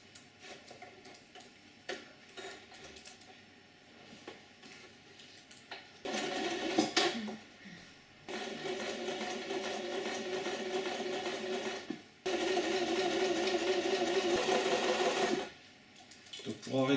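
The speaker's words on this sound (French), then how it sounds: "Donc je vais le passer à la machine à coudre." Sewing machine stitching the hem of a fabric face mask, with two sustained bursts of steady motor whir and needle chatter, preceded by quieter handling clicks and faint ticking between runs.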